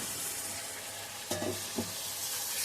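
Chopped onion, garlic, chilli and tomato frying in mustard oil give a steady close sizzle, with a couple of brief utensil knocks partway through.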